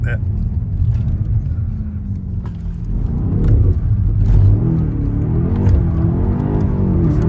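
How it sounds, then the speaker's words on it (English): A BMW X6M SUV drifting in two-wheel drive mode, its engine revving with a loud, continuous low rumble that swells midway, with voices talking over it. "I never in my life thought I would be drifting an X6M in two-wheel drive mode"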